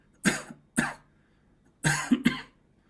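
Two pairs of sharp, breathy coughs, close and fairly loud, with a short pause between the pairs and quiet in between, no speech.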